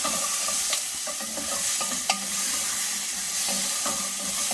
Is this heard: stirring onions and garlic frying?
yes